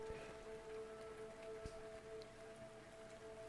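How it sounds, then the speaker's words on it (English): Steady rain falls in the Arknights video game, a continuous even patter of drops close by, with a faint sustained tone running underneath and no talk. "The rain caresses her palms."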